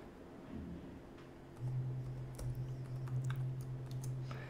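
Password being typed on a computer keyboard during a MySQL install, with a steady scatter of light key clicks over a low hum and no talking.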